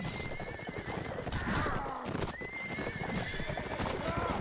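Horses in a multiplayer medieval combat match clatter in dense, continuous hoofbeats while a horse whinnies several times, loud and close, under fast commentary from a caster.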